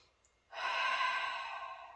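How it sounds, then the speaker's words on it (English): A deep, audible breath taken during a yoga backbend, a soft, close, drawn-out airy exhale lasting over a second after brief quiet. "You can take a deep breath."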